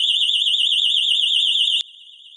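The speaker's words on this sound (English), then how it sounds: "The trackside warning alarm incorporates dual warning sirens and a strobe light." Grace Industries trackside warning alarm with dual sirens wailing in a loud, rapidly warbling electronic tone that holds steadily, then cuts off abruptly near the end, leaving faint residual sound.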